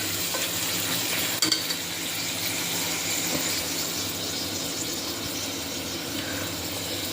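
Onions frying in oil until light brown, a continuous moderate sizzle with low crackle and a single small clink early on.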